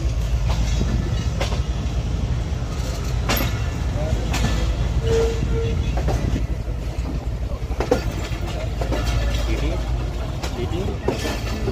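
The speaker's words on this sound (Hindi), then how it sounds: "यार्ड से गुजरती हुई ट्रेन" A TezGam Express passenger train rolls through a railway yard, a steady loud rumble of wheels on track with faint clicking joints, continuous and close throughout.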